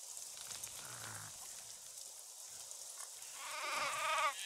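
Sheep in the Craft the World video game give a couple of short, faint bleats, with a louder wavering bleat toward the end over a quiet background.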